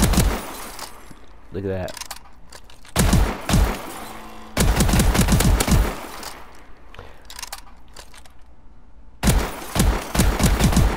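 Repeated blasts from the S12 semi-automatic shotgun in Call of Duty: Advanced Warfare, loud bursts of shots in clusters separated by brief pauses, with someone talking briefly between volleys.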